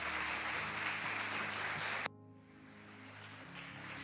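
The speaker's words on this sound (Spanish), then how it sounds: "Si lo crees, dale ese fuerte aplauso." A church congregation applauds during an Easter resurrection sermon. Dense, full applause fills the first two seconds, then cuts off abruptly and sustained tonal sound follows.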